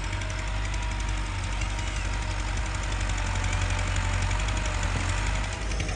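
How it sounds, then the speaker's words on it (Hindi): A tractor engine runs steadily in a village field at evening, with a tubewell pump working nearby, a loud, continuous low rumble and knocking drone that holds level for the whole stretch with no talk. "उधर ट्यूबवेल चल रहा है, इधर ट्रैक्टर चल रहा है।"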